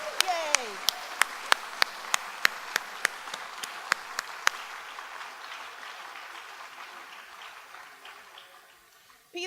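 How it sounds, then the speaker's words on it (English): A crowd at an awards ceremony gives a round of applause, with several loud sharp claps in the first seconds over a dense wash of clapping that gradually fades to quiet. "let's give them one more big round of applause for all that they have done"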